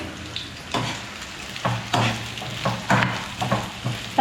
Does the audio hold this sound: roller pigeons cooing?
no